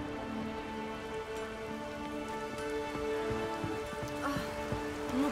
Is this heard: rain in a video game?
yes